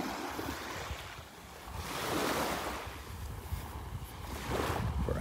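Surf washing onto the beach at Delnor-Wiggins, a continuous rushing wash that swells and recedes in slow surges, with some wind noise over the microphone and no voices.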